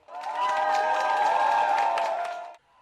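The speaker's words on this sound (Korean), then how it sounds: "손님들이 본격 입장하자 박수와 함성이 터져나옵니다" A crowd at the reopening of a former McDonald's restaurant in Russia, now under a new local burger brand, bursts into loud cheering and applause, a dense roar of whoops and clapping that holds for over two seconds, then cuts off.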